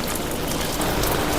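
Summer rain falls steadily and heavily outdoors, a dense, even hiss of drops striking surfaces with no voices.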